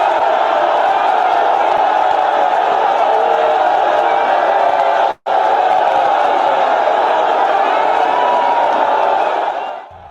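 A large crowd of supporters welcoming James Ibori at his country home in Oghara, Nigeria: a loud, steady roar of cheering and shouting voices from start to finish, broken by a split-second gap in the middle.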